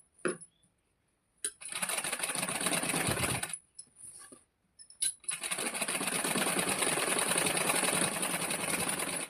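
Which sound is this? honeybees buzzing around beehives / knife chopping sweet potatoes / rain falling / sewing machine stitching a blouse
sewing machine stitching a blouse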